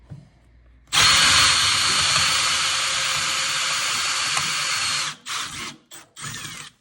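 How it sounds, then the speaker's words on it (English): A power drill bores holes into a bumper bracket, starting abruptly with a loud, steady high whine that runs for about four seconds, then cutting off into a few short bursts. "now we're going to run a bit through the hole there to drill into the bracket"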